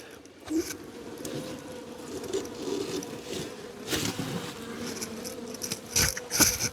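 Honey bees, growing slightly aggressive, buzz around an open hive during a mite treatment: a steady, close, low drone with scraping and rustling noises over it.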